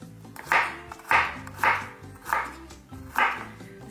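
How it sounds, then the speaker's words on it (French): A knife coarsely chops garlic cloves on a board with five evenly spaced, firm thuds about half a second apart. The chops are close and clear, and there is no talking. "Les gousses d'ail, je vais les hacher grossièrement."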